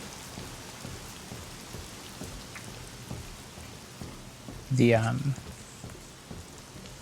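Steady rain falls in the horror video game The Medium, a soft continuous patter throughout, with a brief louder burst of another sound near the middle and a faint voice.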